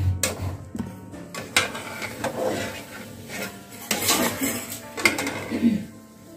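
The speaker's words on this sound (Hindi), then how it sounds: "अब इसको हम प्लेट में निकाल कर ठंडा कर लेंगे।" Boiled besan gatte are lifted out onto a plate with a utensil, giving close scraping, clinking and knocking of metal on dishware in irregular bursts.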